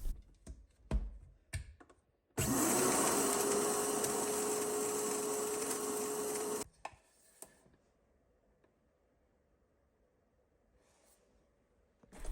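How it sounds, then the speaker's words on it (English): An old Vitamix blender grinds roasted dandelion root, cinnamon sticks and star anise to powder in a loud, steady whirring roar lasting about four seconds. Scattered clatter and taps come before it, and faint rattling follows. "I'm using our ancient Vitamix"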